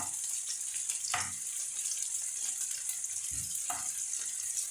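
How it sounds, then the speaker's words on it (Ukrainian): Potato pancakes sizzle steadily in a hot pan, a constant crackling hiss with a couple of soft clanks from utensils, no voices. "Я їх беру на сковорідку, ще підсмажую трішки."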